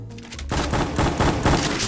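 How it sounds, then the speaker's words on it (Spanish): Max 7 shotgun firing in Free Fire, a sharp opening blast followed by a rapid series of loud, punchy shots about every quarter second, close and with no talking. "La nueva arma, es una escopeta, dispara aunque te vea."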